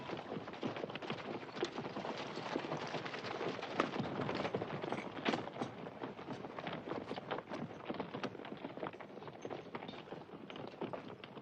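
Many hooves clip-clop in a dense, steady patter as several cavalry horses move together at a walk in a classic western film, fairly close and continuous.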